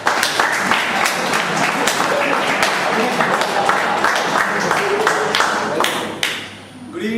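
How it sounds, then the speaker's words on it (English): An audience at a Toastmasters meeting bursts into steady, dense applause close by, clapping evenly for several seconds before it thins and fades, with a brief bit of talk near the end. "Please clap."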